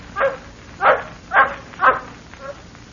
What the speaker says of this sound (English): All I heard was the yap of a native dog.